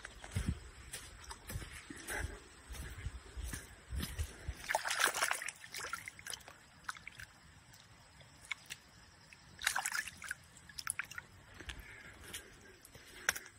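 Water sloshes and splashes in bursts as a found axe is rinsed, with scattered knocks and faint birdsong in the background.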